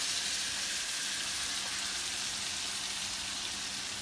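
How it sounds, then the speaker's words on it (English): Gnocchi frying in a pan of butter and onion, giving a steady, close, even sizzle that holds throughout with no talking. "the gnocchi is all done and it's going into the butter and onion"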